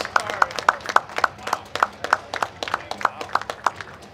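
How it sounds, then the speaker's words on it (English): Steady rhythmic clapping from an audience at an armlifting championship, applauding the women competitors: sharp claps at a brisk, regular pace over a busy room murmur. "Round of applause for our ladies today"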